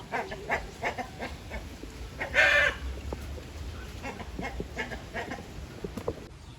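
Native chickens cluck in short, repeated calls at close range, with one louder burst of calling midway and no talking.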